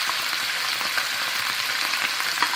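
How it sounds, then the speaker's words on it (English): Braised German beef rouladen rolls frying in a pan, a steady close hiss of sizzling oil with faint crackles, continuous and even throughout the short stretch with no voices. "I have to turn them after a while and fry them from every side."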